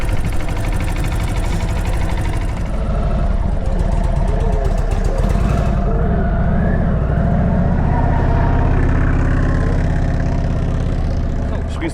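A motorcycle idles and revs at a rider training day, its engine a steady loud drone close by, with a voice speaking over it.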